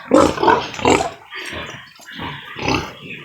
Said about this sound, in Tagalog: Yan nga pala yung aking mga baboy